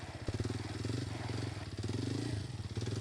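A stock, uncustomised motorcycle idles and putters during a stunt session, a low steady engine rumble with slight rises in revs, heard close and fairly quiet with faint voices around it.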